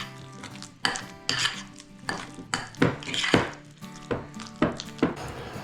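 Stirring a venison jalapeño popper casserole mixture with about half a cup of ranch, with close, repeated scraping and clinking of a utensil against the bowl in irregular strokes, and no talking.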